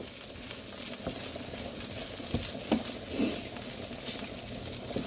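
Onion and basil sizzle in a pan for pasta sauce, a steady close crackling hiss with scattered pops and light clicks running through the whole stretch, no voices.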